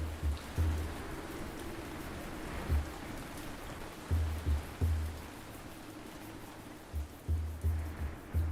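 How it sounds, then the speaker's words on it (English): Heavy rain pours down in a steady, dense hiss, with occasional low thumps breaking through the constant downpour. "Wow, it is raining like crazy."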